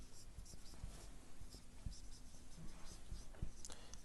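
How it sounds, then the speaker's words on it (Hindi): A pen or chalk scratches and taps across a board in quick, irregular strokes, close and fairly faint, with light background hiss. "यहां पे मैं लिख लेता हूं"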